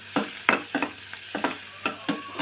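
Dried prawns fry in a pan for a taro root curry, with close, rhythmic scraping strokes of a spatula, about eight of them, over a soft steady sizzle.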